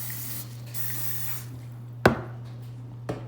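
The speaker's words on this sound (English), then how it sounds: "I'm gonna spray mine because I don't trust it." Cooking spray hisses from a can onto a preheated Dash mini waffle maker, a steady broadband spray for about a second and a half, then quiet with a couple of sharp clicks or taps close by.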